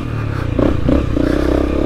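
A Honda CRF250L dirt bike picks its way over rocks and roots on a tight forest trail, its engine loud and close, holding a steady thrum with brief rising revs and light clattering.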